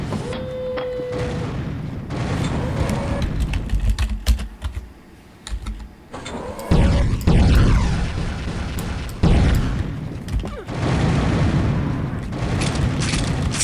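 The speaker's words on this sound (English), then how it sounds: "The drunken missile launcher. Primary fires 4 missiles that move randomly." Missile explosions from the drunken missile launcher in Unreal Tournament 99, a dense barrage of booming blasts and crackling bursts rolling in waves, with short lulls between volleys.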